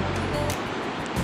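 A waterfall in Peumayen Tenglo park in the Maule region sends up a continuous rushing roar of falling water, close and steady across the whole short stretch.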